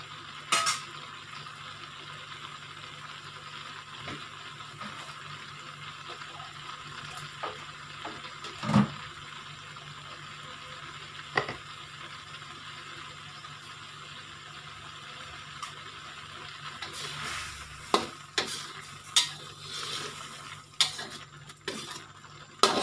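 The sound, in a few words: sambal simmering and being stirred in a pan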